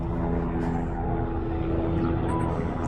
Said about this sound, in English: the helicopter's just going above us